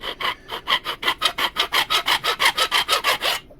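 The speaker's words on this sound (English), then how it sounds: "I'm just gonna use my file and run it across all 4 of them." A metal file rasps back and forth over epoxy-coated wooden outrigger sponsons in a steady rhythm of about sixteen close, even strokes, loud and alone with no talking.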